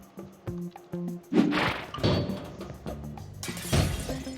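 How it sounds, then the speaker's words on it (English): Glass breaking in Quantum Conundrum, a sharp shattering crash with tinkling debris, heard among clanks, thuds and tonal game effects, and a second bright burst toward the end. "now that the glass is broken, we have no walkway"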